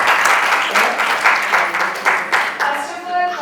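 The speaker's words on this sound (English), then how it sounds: "Big round of applause for you." A Mother's Day gathering audience applauds in a lively, pulsing burst of clapping with distinct rhythmic swells, a faint tone coming through near the end.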